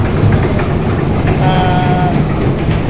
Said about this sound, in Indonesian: Bunyi kereta lewat.